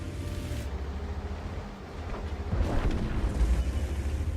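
Deep artillery shell blast in the tank game World of Tanks, a low rumbling boom swelling in the second half over continuous engine drone.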